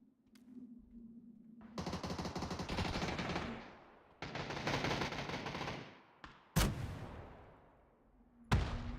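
Gunfire rattles in PUBG in long sustained automatic bursts, broken by pauses and a couple of sharp single shots, loud and close.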